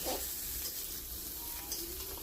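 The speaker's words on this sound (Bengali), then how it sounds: "কপিগুলো মোটামুটি একটু লাল লাল করে ভেজে নিচ্ছি" Cauliflower florets frying in oil in a pan over medium heat, a continuous gentle sizzle with a brief stir or clink at the start and a few soft spatters, heard close and without talk.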